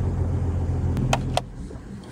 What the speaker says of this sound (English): once the car starts, then the load test is over